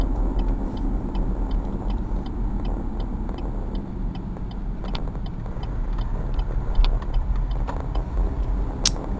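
A car on a driving test accelerates smoothly along town streets, with a low steady engine and road rumble heard from inside the cabin and a turn-signal ticking rhythmically over it.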